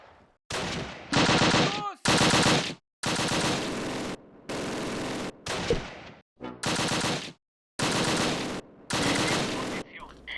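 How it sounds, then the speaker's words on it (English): Machine guns fire in the video game Close Combat Wacht am Rhein, sounding as loud sustained bursts of automatic fire with short silent breaks between them, over roughly nine separate volleys. "He's got a machine gun and"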